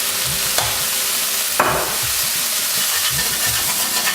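Red wine hits a very hot pan, giving a loud steady sizzle and hiss, with two sharp scraping strokes and a repeated low rhythmic bubbling throughout, close up with no talking.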